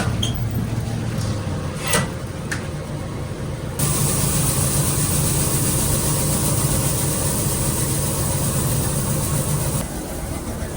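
A rice polishing machine turning brown rice into white rice, its motor humming steadily and loudly for most of the stretch after a few clunks at the start, then dropping slightly near the end.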